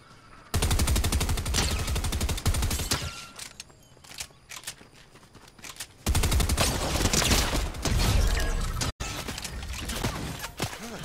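Rapid bursts of video game gunfire from Fallout, loud and close, rattle in long automatic volleys broken by short pauses and a few quieter single shots.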